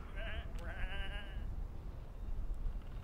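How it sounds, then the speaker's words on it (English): Sheep bleat twice in a fantasy video game world, two wavering, quavering cries in quick succession over a low ambient rumble, then quiet background. "Come on, these are just sheep."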